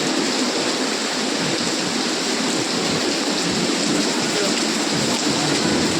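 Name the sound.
heavy rain falling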